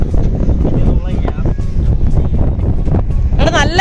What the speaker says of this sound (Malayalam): നല്ല കാറ്റാണ് കേട്ടോ